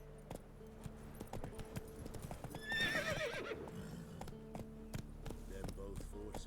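Roach the horse clip-clops along at a trot in The Witcher 3, hooves thudding steadily while a short whinny rises midway, with game ambience and a voice underneath.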